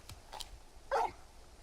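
A big dog in the video game Final Fantasy XVI gives a single short, fairly close bark after a few soft muffled sounds, with no speech over it.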